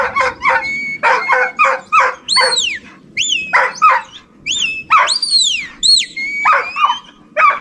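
A huntaway sheepdog on a New Zealand sheep farm barks loudly and repeatedly in rapid bursts, mixed with high rising yelps and whines, close by with a low rumble underneath.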